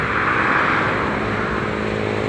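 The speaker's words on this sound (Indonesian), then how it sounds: "Jadi itu sudah pakai mesin penggiling padi itu" A rice threshing machine runs through the paddy harvest in the village of Sibreh, a steady, loud mechanical drone that stays constant throughout, close by and with no one talking over it.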